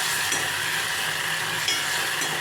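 Onion and tomato sauté in a pan for a tamarind curry, a dense continuous sizzle with constant stirring and scraping close by, no talk.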